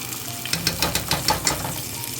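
Garlic sizzling in a hot pan for shrimp fettuccine, a steady close frying hiss broken by several soft crackling bursts and light stirring taps over about two seconds, with no talking.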